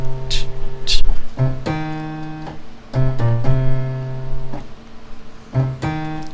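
A keyboard plays two rhythms at once, sustained chords underneath with a busier rhythmic line on top, in repeated phrases with clear attacks over about six seconds, no voice.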